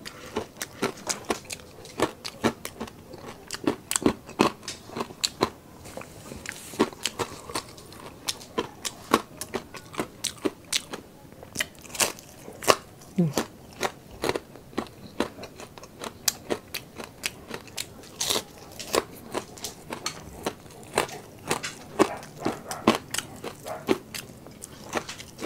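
Close, loud crunching and chewing of super crispy fried pork such as crispy pata and lechon kawali, with dense irregular bites and crackles running nonstop and no talk.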